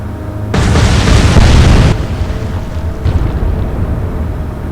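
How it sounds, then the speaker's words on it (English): In Atlantic Fleet, explosions go off as the battleship Howe sinks, a loud roaring blast lasting over a second, then a lower rumbling tail with a smaller burst. "So the battleship Howe is sinking."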